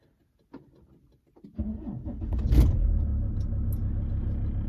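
Mitsubishi Galant 2.5 V6 car engine starts after a few door and cabin clicks, then settles into a steady, close, low rumbling idle that holds to the end.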